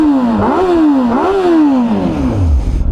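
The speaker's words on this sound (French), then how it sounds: "on démarre l'engin." A 2007 Honda Hornet 600 motorcycle engine fires up close by and revs in two quick rising blips, then the pitch sinks away as the revs drop back toward idle.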